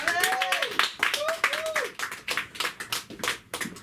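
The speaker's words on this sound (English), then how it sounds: "give a warm hand of applause for the very funny, the very talented, the very lovely Allie." Audience clapping at a comedy open mic in Los Angeles, a dense run of sharp hand claps with voices calling out and talking over them.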